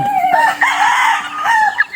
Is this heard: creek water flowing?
no